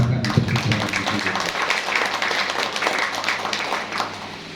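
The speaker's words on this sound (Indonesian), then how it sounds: "Tepuk tangan untuk siswa dan siswi." Applause breaks out for students at an Islamic junior high school event in Sumedang, a close, dense patter of clapping hands that holds steady and then tapers slightly at the end.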